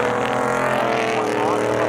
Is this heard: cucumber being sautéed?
no